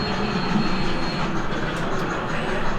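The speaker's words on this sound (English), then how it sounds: "Train's gonna be coming soon." A train rumbles steadily past the Cheyenne, Wyoming train depot, with a constant rolling roar and faint wheel noise throughout, fairly loud and close.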